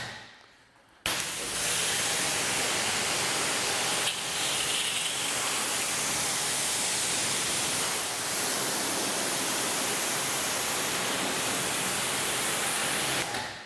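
A pressure washer with a 40-degree nozzle at 1,000 PSI rinses a 2019 Yeti SB100 mountain bike, a loud, close, steady hissing spray that starts abruptly after a second and continues unbroken.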